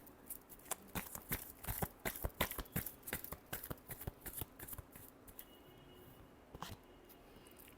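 A deck of tarot cards is shuffled by hand in a quick series of crisp, riffling flicks that taper off into quieter, sparser snaps near the end.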